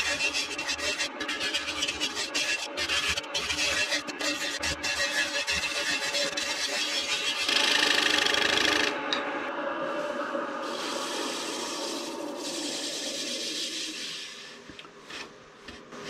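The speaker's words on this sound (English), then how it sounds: "Using a 1-inch round scraper." A one-inch round scraper cutting a black walnut salad bowl on a wood lathe, giving a steady scraping, rubbing hiss over the motor's hum that continues for most of the stretch, then changes tone and eases off near the end.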